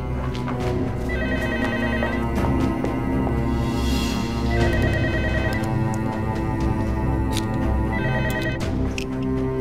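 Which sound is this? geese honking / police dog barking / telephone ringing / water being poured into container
telephone ringing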